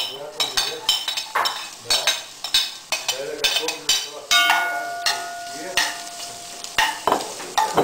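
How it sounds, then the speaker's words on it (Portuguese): Onion frying in olive oil during a scout cooking task, heard as a soft sizzle under repeated scraping and clinking of a utensil against the pot, close and rhythmic, with a brief tonal ring partway through. "Vamos pôr a cebola para já ir fritando."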